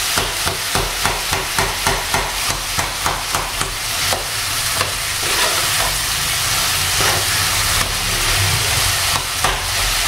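Chickpea curry being mixed in a pan, starting with a quick regular series of utensil taps and scrapes against the pan, then turning into continuous stirring and a bubbling sizzle, close and loud.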